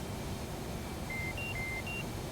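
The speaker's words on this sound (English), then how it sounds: "Getting warning beeps going off, is that because of the fuel?" Cockpit warning beeps go off in the DCS World flight simulator during a fuel caution: a few short, faint electronic tones over a steady, loud cockpit noise bed.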